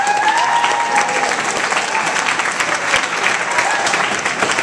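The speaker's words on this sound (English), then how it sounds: "Big round of applause for everyone who's performed tonight." Dense, sustained applause from an audience for performers at a school folk night, a steady wash of many hands clapping with a few cheers and whistles.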